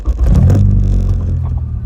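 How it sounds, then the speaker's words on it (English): A K-swapped race car's engine drones steadily up close, a low rumbling whir that swells slightly as it drives, with no voices over it. "I like listening to the car"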